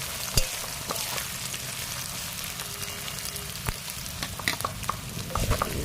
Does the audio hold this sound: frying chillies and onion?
yes